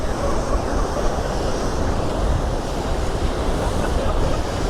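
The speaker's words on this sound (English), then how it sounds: "Look at these waves." Ocean waves break steadily against rocks along the Nova Scotia coast, a continuous loud roar of surf with wind buffeting the microphone and no voices.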